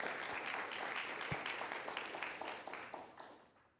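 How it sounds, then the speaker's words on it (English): A lecture hall audience applauds at the close of a student's talk in an algorithms class, a moderate patter of many hands that thins and fades over a few seconds. "one more round of applause for Annalise and a thank you"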